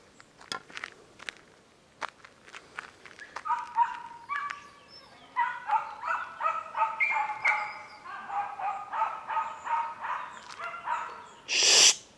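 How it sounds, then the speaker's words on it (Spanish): Adult Podenco Andaluz dogs bark outdoors in a run of sharp yelps and rhythmic barks, moderately close, with a louder burst at the end. "están los grandes ladrando"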